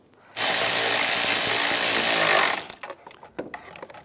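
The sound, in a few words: tightening a bolt on a Volkswagen Beetle transmission mount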